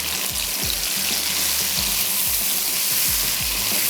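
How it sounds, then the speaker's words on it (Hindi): Masala-coated mutton is stirred into a pot of frying onions. A constant loud sizzle hisses throughout, with repeated low scraping and stirring thumps in a steady rhythm. "अब हम इसमें ऐड करने जा रहे हैं ये मसाला लगा हुआ गोश्त। पहले मैं मिक्स कर लेती हूँ"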